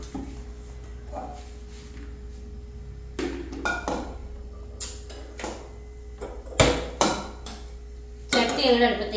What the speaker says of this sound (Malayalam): ചട്ടി അങ്ങോട്ട് അടുപ്പത്തേക്ക് വെക്കുക.